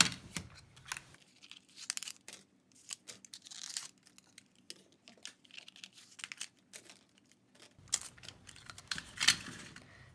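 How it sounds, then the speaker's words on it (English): Cardboard backs and paper being pulled and torn from picture frames, quiet close-up crinkles, rips and small taps coming in irregular bursts with brief pauses and no talking. "we're just removing the backs, the little cardboard, and the paper from all of the frames, just to leave the glass and the frame."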